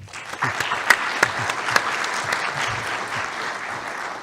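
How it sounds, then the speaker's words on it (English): Audience applause at a GSA and EPA business opportunities session, a steady wash of clapping from a room of people with a few sharper nearby claps standing out, sustained throughout. "Everyone, let's give a round of applause for our speakers."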